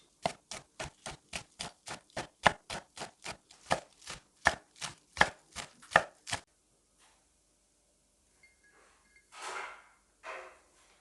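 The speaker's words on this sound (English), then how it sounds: "Wash and finely slice 1 bunch of spring onion." Spring onions being finely sliced with a knife on a board, a quick even run of about twenty close, crisp chops that stops abruptly, followed by quiet and a couple of faint handling rustles.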